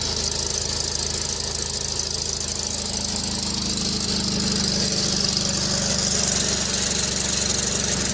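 The small engine of an early self-contained hydraulic log splitter runs at a steady, rumbling idle with a throbbing low chug, continuous throughout and fairly close.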